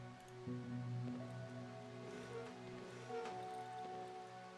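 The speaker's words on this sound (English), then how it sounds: "I need a rainy day like this right now." Rain falls steadily in the video game Darkwood, a faint soft patter over a low background with some quiet tonal hum.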